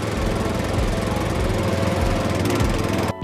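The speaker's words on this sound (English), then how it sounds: "Excavator." An excavator engine runs in a loud, close, steady rumbling drone that holds without a break for about three seconds.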